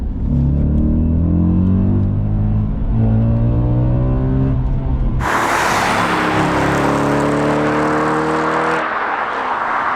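A deep, rumbling V8 engine in an Audi B7 RS4 revs hard and loud, its pitch climbing through the gears, with a sudden surge of roaring intake noise partway through.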